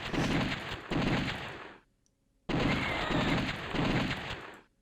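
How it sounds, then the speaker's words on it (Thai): Magnum gunfire in the arcade shooter The House of the Dead comes as dense bursts of loud, rapid shots, broken by a brief silent pause partway through. "โหปืนเป็นแรงมากเลยนะปืนเราเป็นแมกนัมปะเนี่ย"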